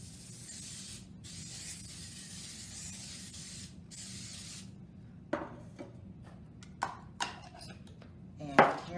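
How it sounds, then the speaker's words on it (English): Cooking spray misting the bottom and sides of a 9-inch cake pan, several soft hissing bursts of spray up close, followed by light taps and clinks of the can and pan, with faint talk underneath. "What we're going to do is mist the bottom and sides of a 9-inch cooking pan here with the cooking spray."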